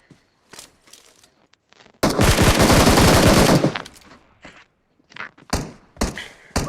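Automatic gunfire in the video game PUBG rattles out in a loud, rapid burst lasting over a second, surrounded by scattered single shots, thuds and footsteps.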